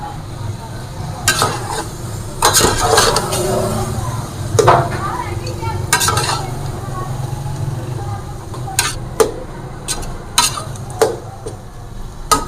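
Chopped ginger and tomatoes are stirred in a pot for Banarsi mutton biryani, with repeated scraping and clinking of a spoon against metal over a steady sizzle, close by.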